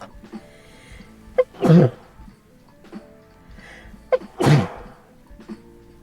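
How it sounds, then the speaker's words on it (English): Two loud, close sneezes a few seconds apart, each with a sharp inhale before it, plus faint breathy sounds between. "I have to sneeze."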